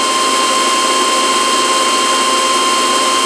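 A 9x20 metal lathe spindle runs steadily at about 631 RPM, giving a loud continuous whine with a sharp tonal hum and broad mechanical hiss, unbroken and close throughout.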